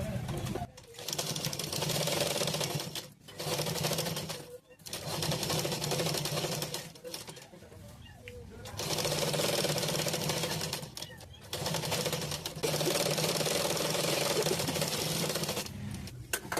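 A sewing machine stitches a simple blouse in long, steady whirring runs, loud and close, stopping briefly several times between seams, with a voice speaking softly under the machine noise.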